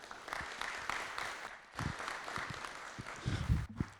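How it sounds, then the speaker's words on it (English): Scattered applause from a town meeting audience, moderately quiet and uneven, with a brief lull midway and a few louder close claps and knocks near the end. "So they deserve a big round of applause."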